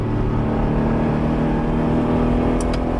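An Acura NSX fitted with an aftermarket Pride V2 exhaust cruises with the windows up, giving a steady, loud engine and exhaust drone heard from inside the cabin.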